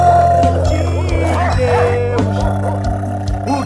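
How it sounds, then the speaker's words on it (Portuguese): A dog barks and yips in short bursts against a loud, dense musical backing in a Brazilian parody music piece, with the yelps cutting through the steady tonal bed. "O cachorro me mordeu"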